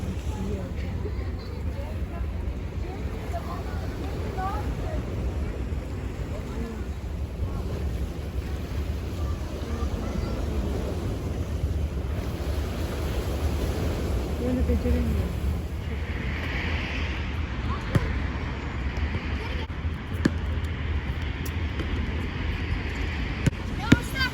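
Steady wind roars and water rushes around a moving ferry on a rough, wavy sea, while people talk faintly under the constant noise.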